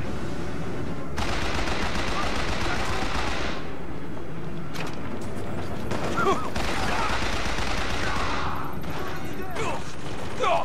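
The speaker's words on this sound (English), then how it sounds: "Everybody's shooting at me." Gunfire in Bioshock Infinite comes in loud repeated bursts and volleys, crackling shots layered over a dense rumbling combat backdrop, with a voice talking at points.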